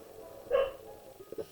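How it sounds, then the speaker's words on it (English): A dog barks once indoors, a short, fairly loud bark, then a couple of softer yips or clicks follow against a quiet room background. "He's barking at something outside."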